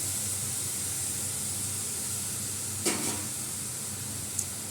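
Potatoes sizzle in a pan with a steady, even hiss. A single clattering stir cuts in near the middle and a faint tick comes near the end, with no voices.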